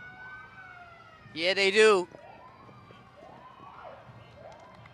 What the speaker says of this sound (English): their Brockton Police traditional paddy wagon that's shouting out with that siren